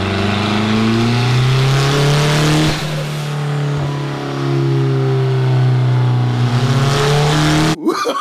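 Turbocharged Mitsubishi 4G63 engine pulling hard on a dyno under boost, a loud sustained roar rising steadily in pitch, with a brief dip partway through before building again and cutting off abruptly at the end.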